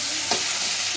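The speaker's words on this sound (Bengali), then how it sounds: "দিয়ে সুন্দর করে অনেকক্ষণ ধরে এটা কড়াই ভাজা করবো" Green leaves with turmeric fry in an oiled kadai wok, a dense, close sizzle with a brief scrape of stirring partway through and no talking.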